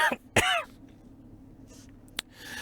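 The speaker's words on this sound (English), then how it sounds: "That cough was intentional." A couple of sharp, close throat-clearing coughs, the second louder, followed by brief quiet and a small click.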